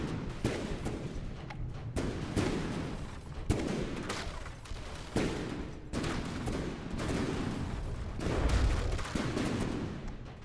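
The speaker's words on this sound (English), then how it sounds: "we can see the casemate guns opening up on Kirishima and also on the midship of" Casemate guns fire in a simulated naval battle between HMS Belfast and the battleship Kirishima, heard as a loud, continuous barrage of overlapping booming salvos with rolling rumble between shots.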